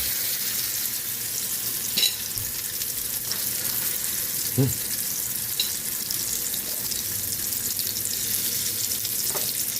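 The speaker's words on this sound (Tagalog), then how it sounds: "Magpiprito na tayo ng tortang talong. Lagay na natin yung ating tortang talong." Eggplant omelette (tortang talong) frying in a pan, a steady broadband sizzle of hot oil running throughout with a few soft clicks and taps of utensils.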